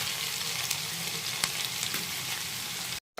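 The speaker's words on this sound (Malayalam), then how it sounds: "ഇരട്ടി നമ്മൾ ഇളക്കി കൊടുക്കണം, അടിയിൽ പിടിക്കാതെ." Okra stir-fries in a pan for mezhukkupuratti, giving a steady close sizzle with occasional spatula taps and scrapes before cutting abruptly to silence, no talking.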